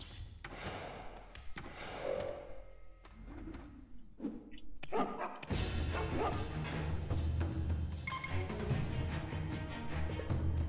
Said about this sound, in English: I just woke the dog up